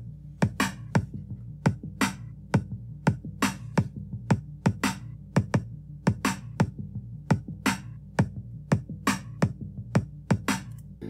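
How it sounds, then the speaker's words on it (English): Electronic beat over the pitched-down Stranger Things synth arpeggio, now with an added kick drum alongside crisp snare hits, a dense bouncy rhythm of punchy thumps and snaps repeating throughout. "I also added a kick."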